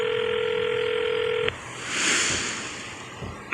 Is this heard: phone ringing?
yes